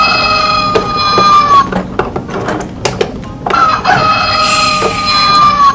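A rooster crows loudly and close in long drawn-out calls, one near the start and another near the end, while chickens cluck in between, with no people speaking.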